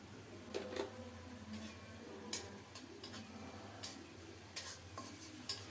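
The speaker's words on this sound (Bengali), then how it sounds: "অল্প তাপে খুব ভালো করে মশলাটাকে কষিয়ে নেব" Spices for egg curry fry over low heat in a pan, a faint sizzle broken by repeated clicks and scrapes of a spoon stirring against the metal, with no voices.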